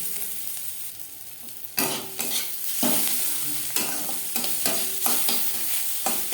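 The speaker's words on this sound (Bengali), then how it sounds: "পেঁয়াজ রসুন ভাজা হয়ে গেছে" Onion and garlic frying in oil in a pan, with a spatula stirring in repeated scraping strokes over a steady close sizzle, no voices.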